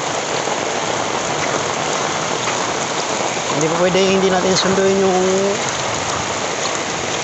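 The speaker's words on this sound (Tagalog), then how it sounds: "Lakas ng ulan na yan." Heavy rain pours down hard and constantly on surfaces outdoors near a school, a loud dense hiss throughout, with someone speaking partway through.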